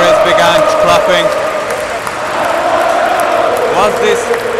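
Stadium crowd applauding and cheering through the Celtic Scottish Cup trophy presentation after the final against Inverness, a dense, continuous wash of clapping and voices with a commentator talking over it.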